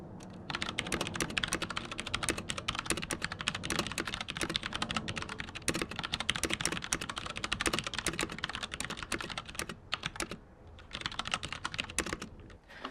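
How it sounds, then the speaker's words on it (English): Steady, fast typing on a Feenix Autore mechanical keyboard with brown switches, close and continuous, with dense overlapping key clacks and only a brief pause near the end; no voices. "I'll just go ahead and give you guys a type test right now so you can hear what these actually sound like"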